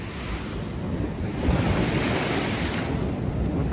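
Sea waves wash and rumble by old boathouses on the Crimean coast, a steady close surf roar mixed with wind buffeting the microphone, with no voices.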